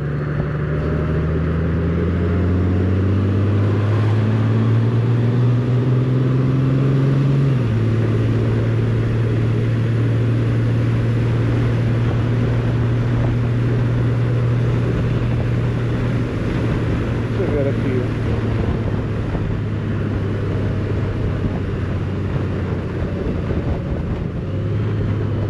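Honda Goldwing touring motorcycle riding in tour mode with a passenger aboard, a loud steady engine drone with rising and shifting pitch as it accelerates and settles, wind rush throughout.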